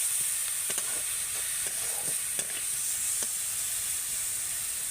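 Coriander powder and spices frying in a pan while being stirred, a steady close sizzle with faint scraping ticks scattered through it, no talk.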